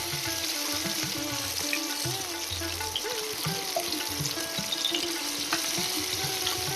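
Katla fish head pieces fry in hot oil with a continuous sizzle and faint popping, accompanied by light clinks and stirring scrapes in the pan, steady and close with no talking.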